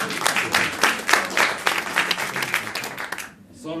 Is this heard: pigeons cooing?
no